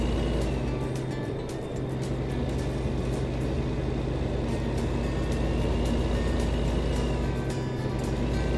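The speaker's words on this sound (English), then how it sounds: "I'm not sure why that fire truck just drove around like that." A fire truck drives around in American Truck Simulator, a steady engine drone and road rumble running loud and continuous with no talk over it.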